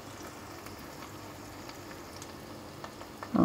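Flattened leaf pakoras made from pressure, drumstick and curry leaves fry in a small amount of oil, giving a steady, faint sizzle with a louder bump near the end.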